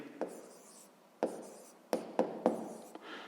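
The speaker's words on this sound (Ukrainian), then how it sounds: "Так само записуємо, пишемо дріб." A hand writes a fraction on paper in short, scratchy pen strokes, five or six quick marks separated by brief pauses, close and quiet, with no talk.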